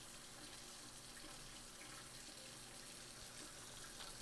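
Tap water runs steadily into a sink as green onions are rinsed underneath, a constant faint wash of splashing with no voices.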